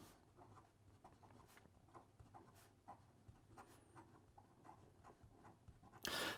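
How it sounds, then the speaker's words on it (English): Broad stainless steel nib of an Opus 88 Demonstrator fountain pen writing on paper, a faint close scratching in short strokes and pauses, with a louder rustle at the very end. "So here we go with the writing sample for the Opus 88"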